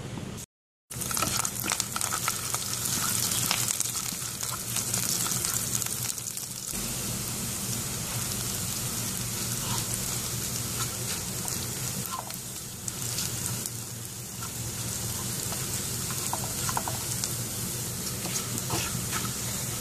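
Onion and curry leaves sizzle in hot coconut oil for a roasted-coconut chicken curry, a steady, dense crackle with rain-like spatter that runs continuously and close up, with no talking.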